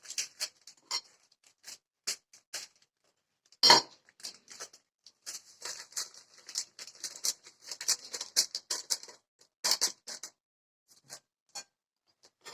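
A whisk clinks rapidly against the side of a bowl while whisking eggs with sugar, in irregular bursts, with short pauses and one louder knock, and no talking.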